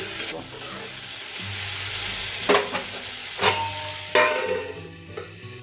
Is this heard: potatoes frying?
yes